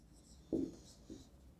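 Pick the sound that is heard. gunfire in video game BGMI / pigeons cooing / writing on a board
writing on a board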